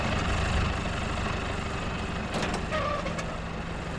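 Tractor towing trailers on a farm: a steady idling engine drone continues throughout, with a few brief clanks and a short higher mechanical whine near the end. No one speaks.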